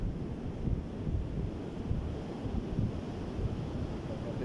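Sea waves wash steadily onto the shore, a continuous low rumbling surf with gusts of wind noise buffeting the microphone, fairly faint and without pause.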